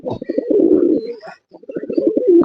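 A Lakha pigeon coos close by in two throaty, rolling bursts separated by a short pause.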